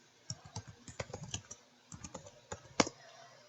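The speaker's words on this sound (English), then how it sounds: "Ooh, I can type." Typing on a computer keyboard, a quick uneven patter of close, soft key clicks that pauses briefly and ends on one louder keystroke.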